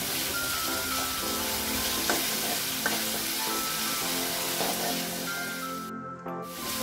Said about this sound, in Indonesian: Ini kita tumis sampai bumbunya agak tanak ya